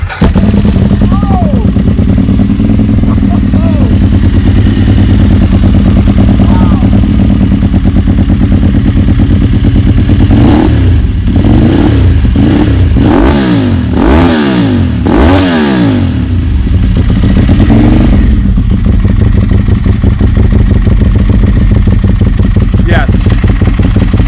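A Ducati 959 Panigale starts up and runs, a loud close twin-cylinder rumble that holds steady and rises into several sharp throttle revs midway before settling back to idle.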